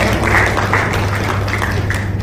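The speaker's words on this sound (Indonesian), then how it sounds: "Tepuk tangan untuk panjenengan semua." A meeting audience of vocational school principals applauds in a hall, giving a dense, steady wash of clapping that holds at an even level for a couple of seconds over a low room hum.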